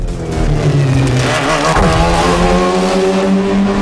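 A 1,400-horsepower all-wheel-drive racing car engine revs loud and close in the Shift 2 Unleashed racing game, its pitch climbing and falling through a gear change.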